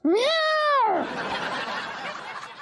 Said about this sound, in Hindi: तो यार ये कतरीना विभूति सेठ की बिल्ली कम और गर्लफ्रेंड ज्यादा लग रही है यार